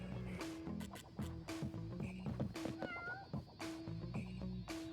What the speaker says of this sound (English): we got a Schrodinger's cat in there.